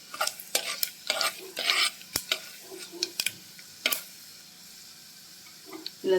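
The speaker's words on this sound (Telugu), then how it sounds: "ఆయిల్ హీట్ అయిన తర్వాత తిరుమాత దినుసులు యాడ్ చేయండి." Tempering spices for brinjal curry crackle and sizzle in heated oil while a spoon stirs, making bursts of sharp pops and scrapes that thin out toward the end.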